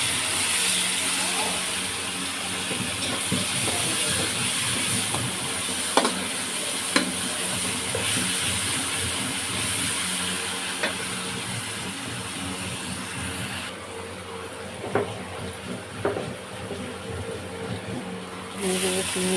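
Garlic paste hitting a hot pan gives a steady broadband sizzle with occasional stirring clicks and scrapes, continuous and close throughout, with no one talking.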